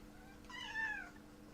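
A house cat lets out a single soft meow, rising then falling, heard up close against a quiet room.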